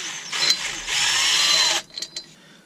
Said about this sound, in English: take the two screws out.